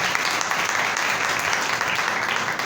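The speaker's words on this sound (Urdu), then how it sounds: "زوردار تالیاں خداوند کے لیے بجا دیں" A church congregation claps loudly and steadily at an evangelical service, a dense continuous applause that keeps an even level throughout.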